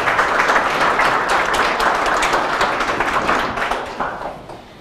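An audience applauds to welcome a guest speaker at a prostate cancer clinic lecture, with dense, steady clapping from a full room that fades slowly toward the end.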